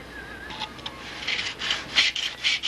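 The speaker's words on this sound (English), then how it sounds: "I just got my fine sandpaper on a block, and I'll make sure this is just kiss it." Fine sandpaper on a block rubs across a wooden model aircraft rib in short rasping strokes that grow louder and more regular toward the end, close up with no talking.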